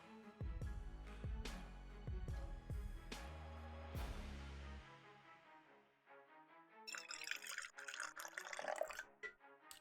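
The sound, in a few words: pouring coffee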